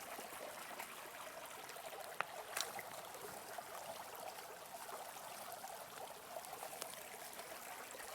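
A small mountain stream trickles and splashes steadily on a hillside walk near Vyhoda and Novoselytsia, a faint continuous water wash with no one speaking.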